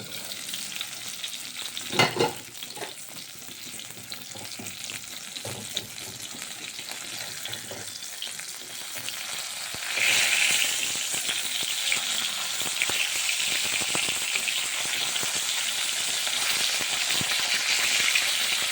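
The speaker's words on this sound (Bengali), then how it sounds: "মাছগুলো রান্না হবে আর বেশ কয়েকটা মাছ মাছের ডিম ভেজে নিয়েছি প্রথমে তারপরে বাকি মাছগুলো" Fish frying in a pan for a home lunch, a continuous close sizzle and crackle with occasional stirring scrapes, growing louder and denser partway through, no voices.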